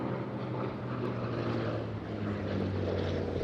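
A Hawker Fury fighter powered by a Bristol Centaurus radial engine growls past at an airshow, a deep, loud, continuous rumbling drone that holds steady without pause.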